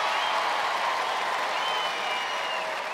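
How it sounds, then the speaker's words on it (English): Brief burst of audience applause and crowd noise for four sportswomen in a televised 1995 Gladiators team sports contest, steady and fairly loud for the whole moment. "a big round of applause for these 4 fantastic sportswomen"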